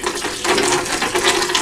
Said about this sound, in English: Water starts running in at that rate.